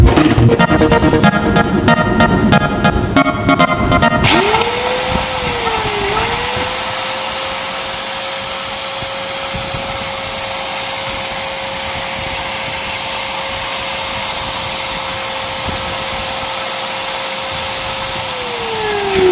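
A Makita angle grinder with a freshly repaired armature clatters briefly, then spins up and runs with a loud, steady motor whine that holds even until the end.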